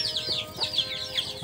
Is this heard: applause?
no